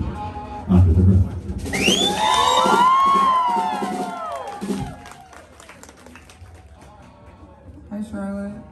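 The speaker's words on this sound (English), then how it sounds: "a great big round of applause and welcome to the stage" A concert audience claps and cheers as a band is welcomed to the stage, with rising whoops over the applause, which swells and then gradually tapers off.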